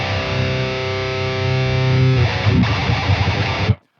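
A heavily distorted high-gain electric guitar sustains a buzzing chord, then breaks into gritty, choppy noise as a loosely clamping noise gate acts, before cutting off abruptly into silence.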